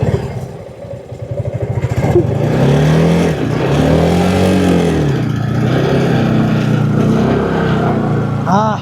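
Bajaj Pulsar motorcycle engine droning steadily during a ride, loud and close with rising and falling revs and wind rush throughout.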